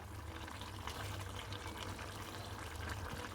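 Beef stew bubbles at a vigorous boil in a pot, a soft continuous burbling and watery churn, faint and steady throughout.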